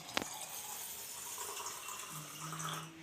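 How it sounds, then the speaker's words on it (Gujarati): Water runs steadily into a metal pressure cooker, a continuous splashing pour with a short clatter at the start, close by. "આમાં પાણી નાખી દઈએ"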